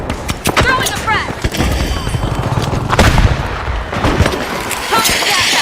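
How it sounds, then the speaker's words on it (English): A frag grenade is thrown and explodes in a video game, giving a heavy blast amid dense rattling gunfire and booms. The sound is loud and busy throughout, with a voice talking over the action. "Throwing a frag."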